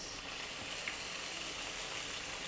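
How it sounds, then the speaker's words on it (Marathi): Soy sauce hits a hot pan of chilli garlic tofu, giving a steady, close, broadband sizzle with a brief bump partway through and no voices. "त्याच्यात आता सॉस घालून घेऊया आपण. 1 चमचा सोया सॉस,"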